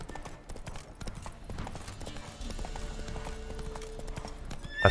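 Hooves of Roach, the horse in The Witcher 3, clip-clop in a steady galloping rhythm throughout, with game music and ambience underneath and a faint voice briefly present.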